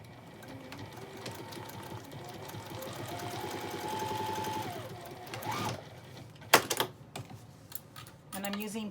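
A sewing machine stitches ripstop nylon for a mesh produce bag using polyester thread, its fast steady needle rattle running for several seconds before stopping, followed by a few clicks and handling sounds close by.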